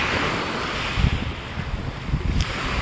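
Sea waves wash steadily at Salmiya Marina beach in Kuwait, a continuous surf roar mixed with gusty wind buffeting the microphone, with a few louder surges and no talking.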